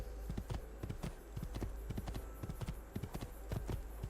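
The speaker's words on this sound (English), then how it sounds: "The horse is much faster than on foot too." Horse hooves beat fast and steadily on the ground in Assassin's Creed II, a continuous rhythmic clatter that stays close and fairly loud throughout, with no talking.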